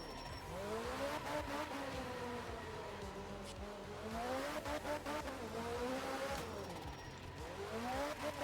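Rally car engine in the racing game Art of Rally, a loud continuous rev that rises and falls through gear changes, with tire noise and rough surface rumble, heard alone without talk.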